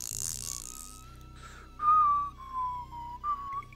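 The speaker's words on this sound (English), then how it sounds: "Sorry if the whistling is too loud." Someone whistles a melodic tune from Shadow of the Beast, the notes rising and falling, loud and close, with a faint hum underneath.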